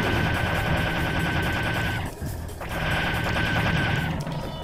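Rapid, continuous automatic gunfire from the Serious Sam video game, loud and dense, with a brief lull partway through before the shooting resumes.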